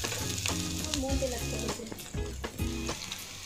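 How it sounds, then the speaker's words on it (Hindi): Finely chopped onion fries in a pan until golden brown for a chicken Schezwan roll. The close, continuous sizzle is broken by scraping stirs, and no one speaks. "इसको भी थोड़ा सा लाल होने तक, अच्छा सा गोल्डन ब्राउन होने तक भूनेंगे।"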